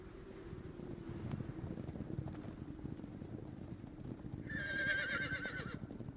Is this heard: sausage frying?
no